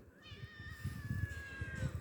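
A cat gives one long, drawn-out meow close up, steady and clear from start to finish against faint low background noise.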